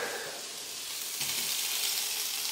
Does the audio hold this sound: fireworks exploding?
no